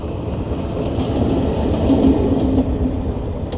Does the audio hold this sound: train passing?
yes